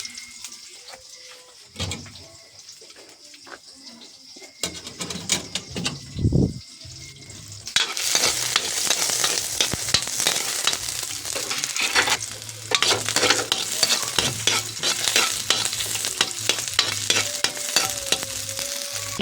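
Vegetables hit a hot pan and burst into a loud, continuous sizzle after some scattered clatter and thuds, the frying staying close and busy to the end with no voices.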